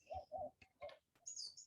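Pigeons being fed nearby, with a few soft cooing notes followed by brief chirps and a higher trill, faint and heard against a quiet room.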